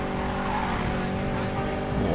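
A car drifts through a tight drift zone in Need for Speed Payback, tyres squealing in a sustained, loud screech over a droning engine, continuous and close.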